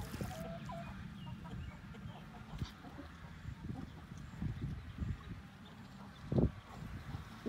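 A hen clucks softly outdoors beside a chick, low intermittent clucks close by amid rustling and light background noise, with one brief louder thump near the end.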